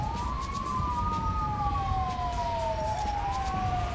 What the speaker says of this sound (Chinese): 怎么是救护车先来啊？